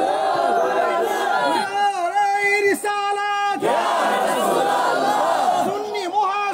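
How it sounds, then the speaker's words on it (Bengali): Large crowd at a Sunni tariqat religious gathering in Dharmandal, Nasirnagar, shouting a loud takbir in unison, with sustained chanting voices that rise and fall in waves, dense and near, almost continuous throughout. "একটা জোরে একটা তাকবীর দেন জোরে"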